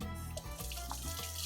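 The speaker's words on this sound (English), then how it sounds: "I'll turn on the hot water." Hot water runs steadily from a sink tap, a continuous close splashing rush that fills the whole moment with no talk.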